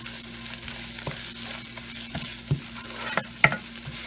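Whole spices, including mace, star anise, cardamom pods and cloves, stirred in a hot pan with steady sizzling and scattered scraping clicks of a spoon, a few sharper knocks near the end.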